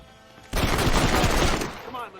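Gunfire in Red Dead Redemption, a sudden roar of rapid shots about a second long that breaks from quiet, fairly loud, with a voice at the tail.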